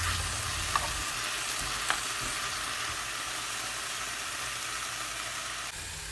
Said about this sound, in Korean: 그 다음에 아까 양파, 대파를 넣고 똑같아요. Mix well.